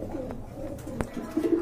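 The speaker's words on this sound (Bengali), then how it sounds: "এটা হচ্ছে আফসান গ্রিজেলের কবুতর, আফসান গ্রিজেলের সম্পূর্ণ রানিং কবুতর" Afsan grizzle pigeons, a breeding pair, coo softly at close range with low, rolling murmurs and a couple of sharp clicks or taps in between.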